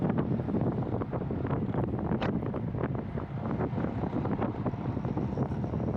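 Steady, loud wind roar buffets the microphone while cycling into a headwind during a Category 3/4 bike race, rumbling continuously with no talking.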